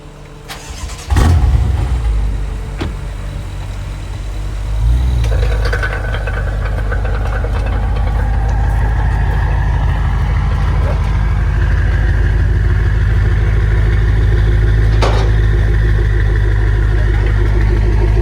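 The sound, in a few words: BMW M5 car engine starting and idling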